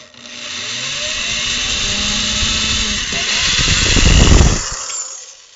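Handheld drill boring a hole in a knife scale, the motor spinning up to a steady whine, then growing louder and rougher as the bit bites, before cutting off abruptly.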